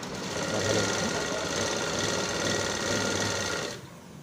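A sewing machine stitches a blouse sleeve in a steady, continuous run, its motor hum and needle chatter holding close and even before stopping abruptly near the end, with no voices.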